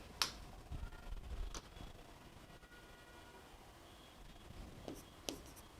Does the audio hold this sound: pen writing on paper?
yes